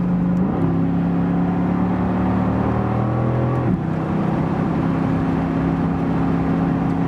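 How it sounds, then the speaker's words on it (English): The 557 hp V8 of a Mercedes-AMG GT C Roadster drones steadily from inside the car while driving. Its low, sonorous hum steps abruptly in pitch twice as the revs shift. "this V8 gives a little sonorous, low frequency sound"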